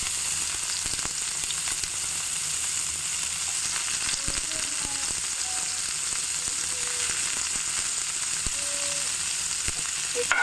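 Chopped chilli and onion fry steadily in a hot pan while masala oats are being made, giving a continuous, even sizzle from start to finish with a few faint utensil touches and no voices.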